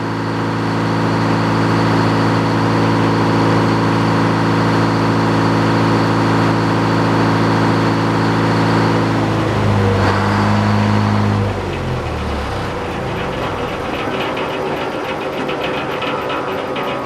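Sawmill engine idling steadily, a loud continuous low rumble with a constant drone that shifts and drops as it winds down near the end, no talking over it.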